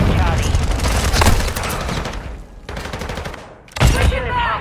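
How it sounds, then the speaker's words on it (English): A cruise missile strike in Call of Duty Modern Warfare II lands as heavy rumbling explosions and dense crackling gunfire, loud and sustained, fading briefly before another strong burst hits. "Friendly cruise missile approaching target."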